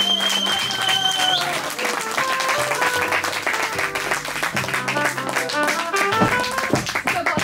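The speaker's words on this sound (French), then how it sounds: "Merci Manon, on l'applaudit" Applause from the audience at a French quiz event during a dance gathering, broadband clapping carrying steadily for several seconds, mixed with music and voices in the background.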